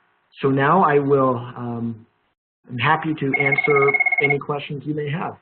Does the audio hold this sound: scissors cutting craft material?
no